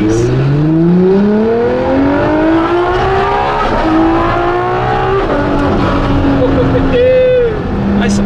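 A Ferrari LaFerrari with a straight pipe exhaust accelerates hard through its gears, loud and close, the engine note climbing steeply with each pull, dropping at quick shifts and rising again.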